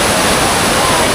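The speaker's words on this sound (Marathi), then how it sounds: "पाणी कंटिन्यू धबधब्यामध्ये पाणी चालू आहे" A waterfall near Lonavala pours continuously, a loud, even rush of falling water that fills the whole moment up close.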